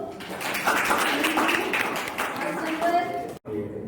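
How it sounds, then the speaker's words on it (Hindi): An audience claps for the first-place team at a school voter-awareness quiz competition, a dense even patter of many hands that breaks off briefly near the end. "टीम डी खड़े हो जाए, ताली बजा दें सब लोग"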